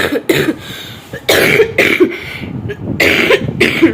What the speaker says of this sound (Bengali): কাশি হয়েছে দেখেছো